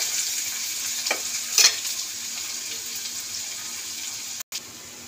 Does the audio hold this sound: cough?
no